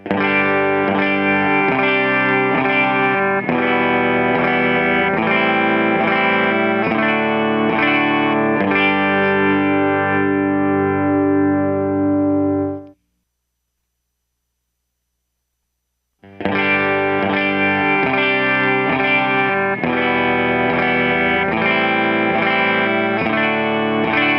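Overdriven electric guitar, recorded through an SM57 microphone, plays chords with a gritty, saturated tone, drops to silence for a few seconds, then resumes.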